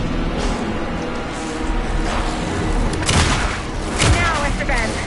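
Video game gunfire from Alan Wake 2, a burst of booming shots and heavy thuds over a dense, noisy backdrop of music and effects, with the loudest impacts coming in the second half.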